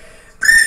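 A person imitates a police or firefighter whistle with the mouth: a single sharp, shrill trilling blast bursts in after a quiet moment, loud and close, with no speech.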